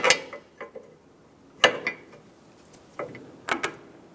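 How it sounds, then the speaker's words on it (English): A wrench breaks loose the outer tie rod nut on a Chevrolet Sonic's front steering, giving a few sharp metallic clicks and clanks in separate bursts, close and fairly loud, with no talking. "we're going to hold the inner tie rod while breaking free the outer tie rod nut"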